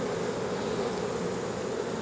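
Agitated honeybees in a hive box hum in a dense, steady buzz, close and continuous with a raised, restless pitch and no talking.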